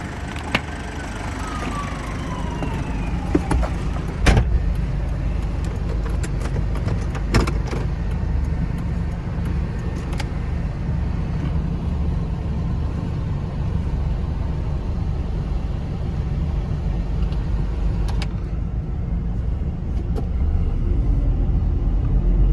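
A 1997 Mazda Bongo Friendee 4WD with a 2.5-litre intercooled turbo diesel and automatic transmission drives around the block, a steady low engine rumble with road noise inside the cabin and occasional brief clicks.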